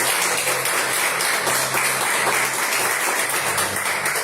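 A church congregation applauding during a sermon, a dense, continuous wash of clapping filling the room at steady loudness throughout.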